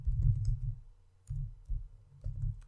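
A mouse button clicked on an OK button, a few soft, close clicks spaced apart against a low background hum.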